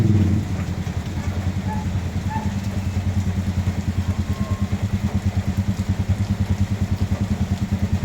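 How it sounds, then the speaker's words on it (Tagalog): A motorized tricycle's small engine putters steadily with a rapid, even chugging rhythm, close by and fairly loud throughout. "Ah, tricycle nga oh."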